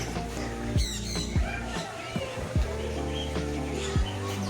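Birds squawk at a bird park near Areekkal, which keeps macaws and African species. Several sharp, loud calls come at irregular intervals over a low, busy background hum.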